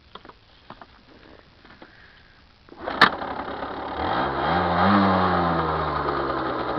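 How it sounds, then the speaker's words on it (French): A Derbi DRD X-Treme SM motorcycle fires up after a few clicks and a sharp kick, then its small engine catches and settles into a steady, buzzing idle that rises slightly, close and fairly loud. "Donc là je vais la démarrer."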